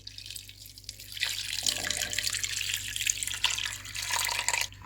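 Water pours steadily into a cooking pot of potatoes and turmeric, a splashy hiss that starts after a brief pause and runs without stopping, close and fairly loud.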